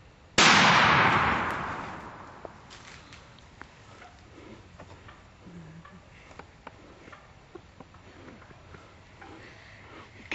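A single loud gunshot cracks close by at the start, then its blast decays into a long fading tail, leaving only faint ticks and small clatters behind.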